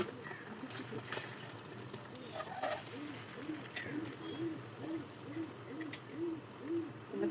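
Pigeons coo near a window in a steady, repeating low rhythm through the clip, with a brief sharper noise burst partway in; no one speaks.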